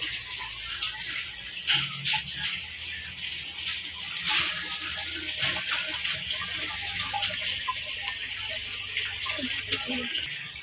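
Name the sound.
water at a home fishing pond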